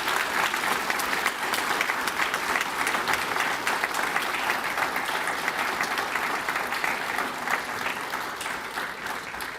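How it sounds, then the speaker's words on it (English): An audience claps at a Navy chief petty officer pinning ceremony, a dense, steady roar of many hands filling the room for nearly ten seconds with no voices over it. "So let's give them a round of applause."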